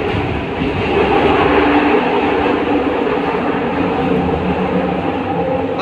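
Steady rumble and rattle from inside a moving driverless LRT train on the Kelana Jaya line in Kuala Lumpur, loud and continuous with faint clickety-clack, no voices.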